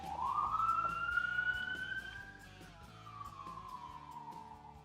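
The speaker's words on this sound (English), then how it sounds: "there's a siren." A single siren wails loudly, its pitch rising and then slowly falling, with steady traffic rumble underneath and no voices.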